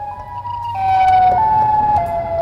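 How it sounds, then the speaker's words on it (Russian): A Chicago-style siren sound effect, used as a Siren Head call, sounds as a steady electronic wail that steps between pitches over a couple of seconds, loud and alone. "первый звук – чикагская сирена."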